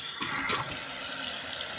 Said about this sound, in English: you'll have a dripping sink like this one, a dripping faucet like this one